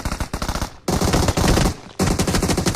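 Automatic gunfire in the mobile battle royale game PUBG Mobile comes as rapid, loud bursts of shots. A quick rhythmic burst is followed by two sustained, dense volleys with short pauses between them.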